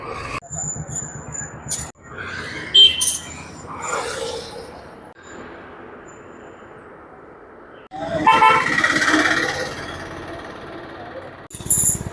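Lorries and buses roll past at the Akkikkavu temple festival, honking with short and longer toots over engine noise, with bursts of nearby traffic between quieter gaps while people talk.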